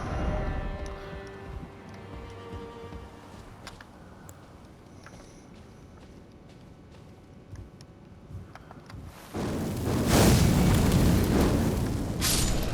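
A fiery explosion hits enemies in Elden Ring at Stormveil Castle, a loud roaring burst that erupts near the end after a stretch of quieter combat clatter and scattered hits.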